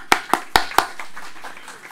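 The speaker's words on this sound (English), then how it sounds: "a big applause for them." Scattered audience clapping at a conference opening session: a few sharp, loud claps up front, then softer, sparser claps trailing off.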